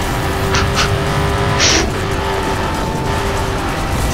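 Car engine under full throttle, a loud continuous drone with tonal engine lines and a brief sharp hiss, close and unbroken, no voices.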